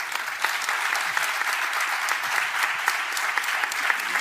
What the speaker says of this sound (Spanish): a don José Antonio Ortega Lara, para el que pido un fuerte aplauso.